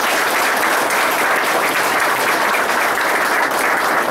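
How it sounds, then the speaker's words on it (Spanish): Loud, continuous applause from a congregation at a Spanish-language devotional during a leadership conference in Guatemala. The dense clapping holds steady throughout, with no voices above it. "terminamos dándole un fuerte aplauso a nuestro Señor"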